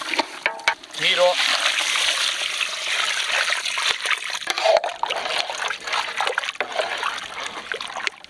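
Water is poured into a masala of country-style mutton with rock salt and turmeric for a Naati-style mutton dry, a loud continuous splashing trickle lasting several seconds after a short spoken word at the start.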